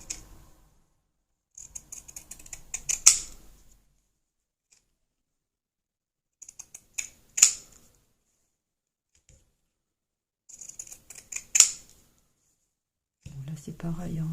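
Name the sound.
pinking shears cutting fabric and lace scraps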